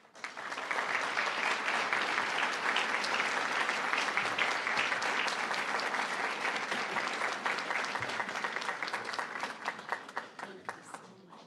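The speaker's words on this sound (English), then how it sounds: "Let's give Doris another round of applause, please" Sustained audience applause at a nursing college graduation ceremony, a steady wash of many hands clapping for about eleven seconds before gradually tapering off.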